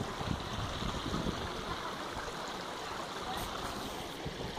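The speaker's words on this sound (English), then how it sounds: "Right there, there's a small stream" A small creek runs over rocks, giving a steady broadband rush and babble of water that carries evenly throughout, with faint scattered rustles that might be footsteps near the bank.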